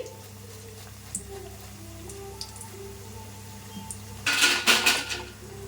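Ragi pakoda fries in hot oil with a faint, steady sizzle, then a burst of clattering metal scraping and clinking near the end as the fritters are lifted out.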